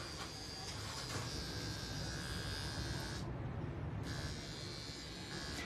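An electric trimmer from a container shipment is switched on and run for a test, giving a steady buzzing hum that cuts out briefly partway through and then resumes, close and continuous.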